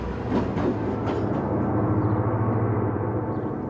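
Chihuahua al Pacifico railway train climbing through mountain tunnels in Mexico, a steady loud rumbling roar with faint rhythmic clicks of wheels, continuous and enclosed.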